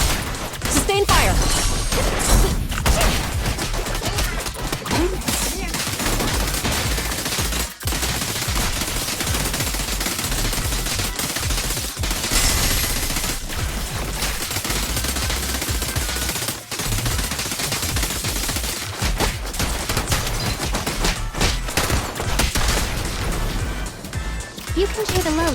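Sustained gunfire in Zenless Zone Zero runs as a dense, continuous roar of rapid shots for the whole stretch. Voices and other combat noise play over it.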